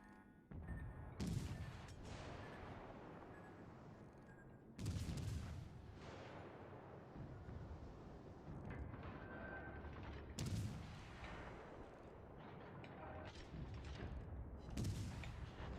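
Naval ship guns firing in World of Warships Legends, four heavy booming salvos at roughly four-second intervals, each decaying into a rumbling tail over a steady background of engine and sea noise.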